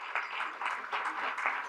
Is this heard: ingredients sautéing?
no